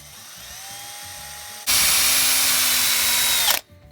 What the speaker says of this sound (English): this is where the sapwood really makes it easier to drill through